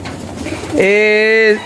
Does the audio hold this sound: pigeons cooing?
yes